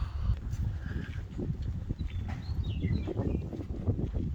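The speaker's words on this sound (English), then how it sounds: "Can y'all hear the bird?" Brief bird chirps and calls outdoors at the Mesa Verde National Park cliff dwellings, over a steady low rumble of wind and soft rustling movement.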